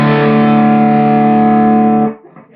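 A Marshall SC20 JCM800 amp on its higher gain channel, boosted by a Hot Mod V2 pedal at a low setting, rings out one loud sustained distorted guitar chord that cuts off after two seconds.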